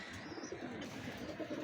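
Young White Golden pigeon squabs give soft, low cooing murmurs close by. The sounds run continuously over a faint background.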